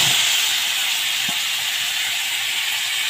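Potato pieces dropped into hot oil left over from frying fish, giving a steady, loud, broadband hiss and sizzle that stays even throughout with no talking.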